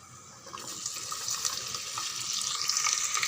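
Sliced onions with green chillies, dried red chilli and curry leaves frying in a pan, a soft steady sizzle that grows slightly louder with faint crackles, no talking over it.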